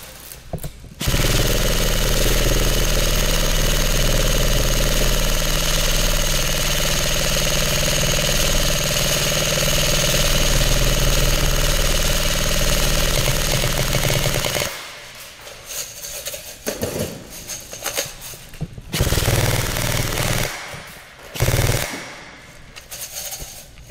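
A Lancer Tactical Gen 3 airsoft gun fires continuously in a long, loud, steady burst of buzzing motor and rapid shots, then cuts to short broken bursts separated by quiet gaps.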